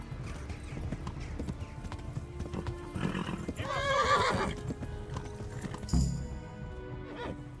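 A horse gallops in Kingdom Come: Deliverance, its hooves drumming loud and close in a rapid, continuous rhythm, with a whinny partway through and no speech on top.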